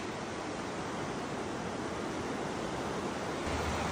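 Rushing water of the Lidder river during rafting, a dense, steady roar of churning rapids that fills the whole space, constant and loud with no voices.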